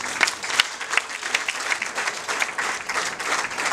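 A wedding audience claps steadily and densely, a close, continuous round of applause with no voices rising above it.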